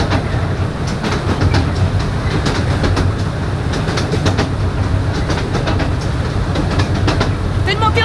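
A train pulls away from a long station platform at the Prater, rolling with a steady loud rumble and rhythmic clickety-clack of the wheels, heard from on board.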